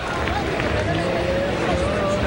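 Warm applause and crowd noise from Worcester Red Sox (Woo Sox) fans at a minor league baseball game against Buffalo, a steady broad wash of clapping and murmur held throughout.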